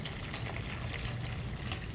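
Cold water poured into a mixing bowl of plaster, a steady close-up liquid splash and trickle filling the whole short span with no talking.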